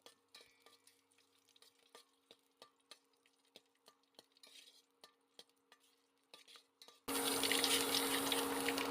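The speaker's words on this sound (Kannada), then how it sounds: "ಮೆಣಸಿನ್ಕಾಯಿ ಸ್ವಲ್ಪ ಫ್ರೈ ಆಗಬೇಕು." Green chillies go into a pan for a healthy herbal tambuli. Quiet clicks and light taps come first, then a sudden loud, close, continuous sizzle erupts and holds to the end.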